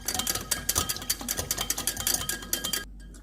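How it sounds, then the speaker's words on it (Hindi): Whisking lemon juice, vinegar, black pepper, salt, dried oregano and garlic together in a bowl for a Greek salad dressing, a rapid run of close, bright metallic clinks against the bowl that stops abruptly near the end. "इन सारी चीज़ों को अच्छे से मिक्स कर लेंगे।"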